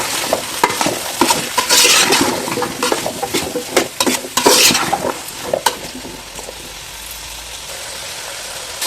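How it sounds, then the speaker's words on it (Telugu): Beetroot, potato, carrot, okra and green chilli pieces being stirred in a pot for sambar, giving scraping, clattering stir strokes over a soft sizzle, busiest early and easing off toward the end. "బీట్రూట్, బంగాళాదుంప ముక్కలు, క్యారెట్ ముక్కలు, బెండకాయ ముక్కలు, పచ్చిమిర్చి ఇవన్నీ వేసిన తర్వాత ఒకసారి కలుపుకోండి."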